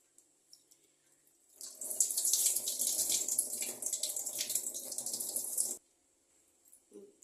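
Rinse water from washed kuthiraivali (barnyard) millet drains through a strainer in a steady, fairly loud splashing rush lasting about four seconds, then stops abruptly, leaving a few faint clinks.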